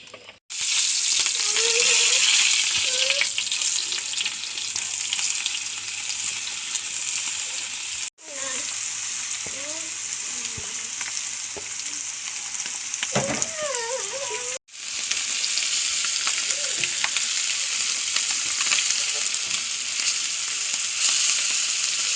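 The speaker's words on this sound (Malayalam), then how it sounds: "രണ്ട് ബ്രാല് ചൂണ്ടി കിട്ടിയിട്ട് കൊടുന്നുണ്ട് അത് വറക്കാം" Oil sizzles loudly and continuously as snakehead (bral) fish fries, a bright crackling hiss with occasional stirring clatters, briefly interrupted a couple of times.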